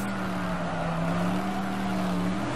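A steady AC 427 Shelby Cobra engine note from rFactor 2 drones on continuously at a sustained pitch, loud and close throughout, with no voices over it.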